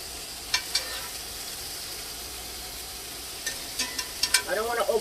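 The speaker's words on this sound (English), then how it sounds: "I'm going to saute some onions" Onions sauté in a pan with a continuous bright sizzle, stirring scrapes and crackles building toward the end, close and fairly loud.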